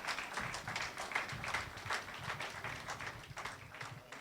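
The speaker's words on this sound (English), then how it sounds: "Please give them another round of applause" Faint, steady applause from an audience at a university independence lecture, honouring the Kingston Chorale; dense clapping continues evenly throughout with no voices over it.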